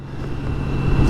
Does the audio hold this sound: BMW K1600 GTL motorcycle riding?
yes